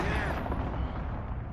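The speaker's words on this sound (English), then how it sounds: "Allied cruise missile launched." A cruise missile launching in Call of Duty: Modern Warfare, heard as a thick, rumbling roar of broadband noise that holds steady throughout with a faint rising whine on top.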